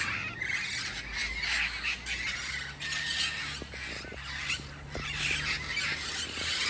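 Red-headed parrots in Pasadena squawking and screeching in harsh overlapping bursts, moderately distant, with a faint low rumble underneath and no voices.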